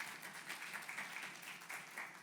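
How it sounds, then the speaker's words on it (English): Audience at a women entrepreneurs' business event clapping together, a steady, dense, fairly quiet patter of many hands holding even for a couple of seconds. "So you all need to give yourselves a clap for that."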